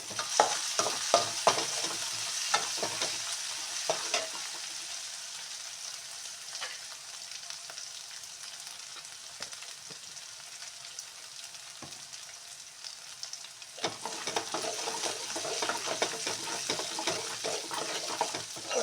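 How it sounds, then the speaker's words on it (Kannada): Garlic and green chilli paste stirred and frying in a pan, a steady soft sizzle running throughout with scraping spoon strokes and a brief quieter stretch midway, no voices. "ಹಸಿಮೆಣಸನ್ನ ಪೇಸ್ಟ್ ಮಾಡಿಟ್ಟಿದ್ದೀನಿ, ಅದನ್ನು ಹಾಕ್ತಾ ಇದ್ದೀನಿ. ಇದು ಫ್ರೈ ಆಗಬೇಕು ಸರಿಯಾಗಿ."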